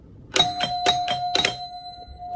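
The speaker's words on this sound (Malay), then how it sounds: "ni loceng." A house doorbell rings in a home being rewired, five quick bright ding strikes in a row that leave a sustained ringing tone fading out, loud and close with no talk.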